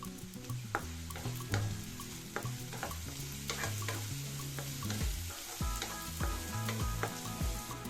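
Onions and green chillies with turmeric frying in a pan, a dense close sizzle broken by frequent clinks and scrapes of a spoon stirring against the metal.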